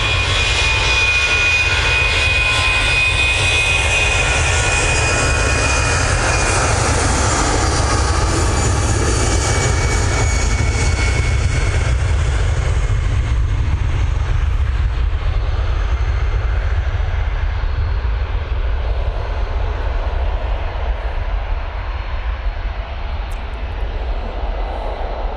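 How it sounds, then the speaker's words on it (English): A Brussels Airlines Airbus A319 jet takes off from Manchester Airport, a loud sustained engine roar with a steady low rumble that slowly fades as the aircraft climbs away. "It is Brussels Airlines. A319 off to proper Brussels"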